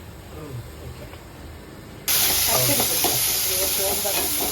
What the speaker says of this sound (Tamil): ஒரு கை வெங்காயம் ஃபர்ஸ்ட் வதக்கணும்